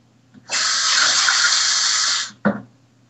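Water pours into a stew pot in a steady, hissing stream for nearly two seconds, cut off sharply and followed by a brief splash and knock, close and clear with no voices.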